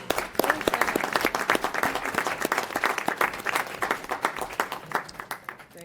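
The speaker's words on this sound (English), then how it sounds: "we're going to give you a round of applause." A round of applause at a Sacramento Regional Transit District board meeting, dense clapping from a roomful of people, loud and close, tapering slightly toward the end with no speech over it.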